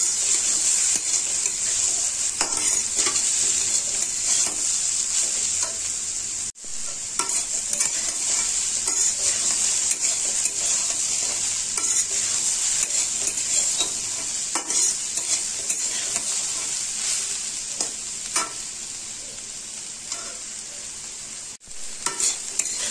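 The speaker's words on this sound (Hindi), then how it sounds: "गोभी को सॉफ्ट होने तक फ्राई करिए।" About one and a half kilograms of grated cauliflower fries in a pan for gobi paratha filling: a loud, continuous sizzle with steady scraping and stirring throughout and two brief dips.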